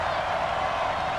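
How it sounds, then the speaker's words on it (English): Steady crowd roar filling a football stadium during a Raiders at Texans game, an even, continuous wash of cheering and applause with no distinct claps standing out. "Watch the crowd."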